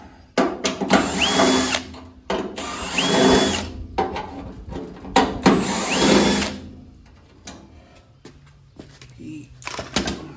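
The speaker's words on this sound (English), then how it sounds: "This is a 1/4 inch drill bit. Just drill them countersink just a little bit." Power drill with a 1/4 inch bit cutting countersinks in car body panels, three loud whirring bursts of about two seconds each with rising pitch, separated by pauses and short clicks.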